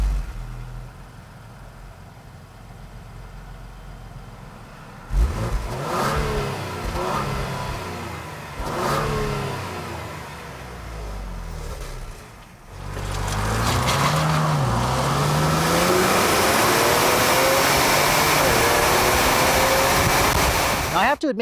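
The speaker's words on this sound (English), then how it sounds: "because this is the ST model, you do get quad outlet exhausts, which are supposedly sport tuned for this vehicle" A 2020 Ford Explorer ST with sport-tuned quad exhaust outlets, its engine revving in a few bursts, then holding a loud sustained roar close by, no talk.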